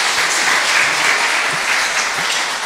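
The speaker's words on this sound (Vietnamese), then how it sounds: "hãy vỗ tay cảm ơn Ngài" A church congregation at a Vietnamese Protestant service applauding together, a loud sustained roar of clapping hands filling the room without pause.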